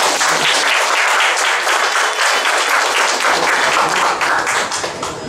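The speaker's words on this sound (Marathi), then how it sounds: "त्यांनी मात्र जोरदार टाळ्या वाजवा" An audience at a talk about eye donation bursts into loud, steady applause, many hands clapping densely and continuously before tapering slightly at the end.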